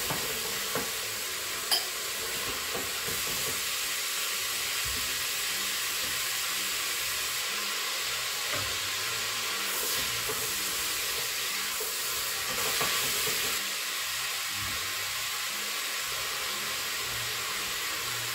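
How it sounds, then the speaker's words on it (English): Peppers fry in a crock pot on sauté mode, giving a soft, steady sizzle and hiss with occasional faint stirring, low and even throughout with no voices. "The next thing we want to do is fry our peppers."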